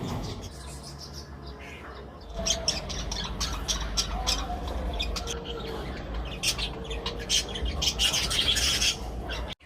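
Birds and parrots call from an enclosure behind a restaurant at a resort on the Bangalore–Chennai highway, with chirps and squawks growing livelier and louder after a quieter start, over steady outdoor background noise.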